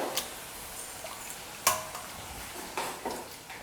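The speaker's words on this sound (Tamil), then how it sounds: "மேஷர் இருந்ததுன்னா அதை வந்து இதை வச்சு நல்லா மசிச்சுக்கோங்க" A masher works through boiled green peas and potatoes for masala puri, making quiet, irregular squishing thuds and scrapes against the vessel at close range, with no talking.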